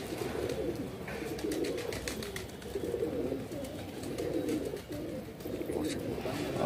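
Madrasi pigeons, including a red-barred hen, coo softly and steadily in a loft, low murmuring calls continuing under a man's speech throughout.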